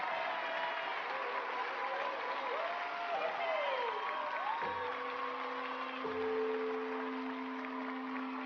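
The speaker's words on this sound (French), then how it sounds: "On applaudit nos deux championnes." Audience applause for two champion girls, a steady wash of clapping from a crowd, with people talking over it and a couple of sustained tones near the end.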